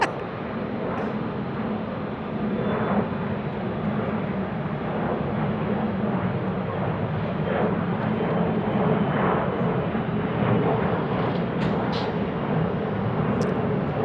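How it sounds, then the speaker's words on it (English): A passenger airplane departs from the west side of Salt Lake City International Airport, its engines a steady, loud broadband roar that holds for the whole stretch with no talking. "There's our first West Side departure of this show."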